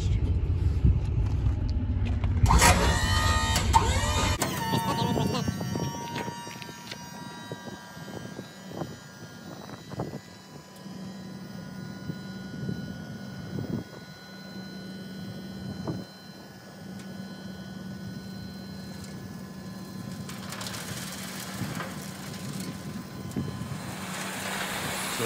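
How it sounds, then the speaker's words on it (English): A Big Tex dump trailer's electric-hydraulic pump raising the bed, a steady mechanical drone and hum running continuously after a brief louder burst, with faint clunks and some outdoor background. "as soon as the trailer reaches its peak height, you want to immediately stop lifting it so it doesn't bog down too much."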